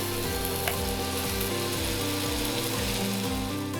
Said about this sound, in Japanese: だんだん少し煙が上がって、音ですね、ジュージューという音がしているぐらいが目安ですね